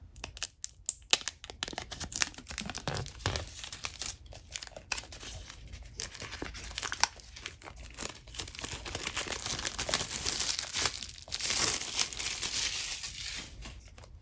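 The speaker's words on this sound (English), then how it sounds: "So let's start off by pulling this pull tab." A paper pull tab is torn off an Apple Pencil 2nd generation box, giving close crinkling, crunching and tearing that build to a sustained rip. No one speaks.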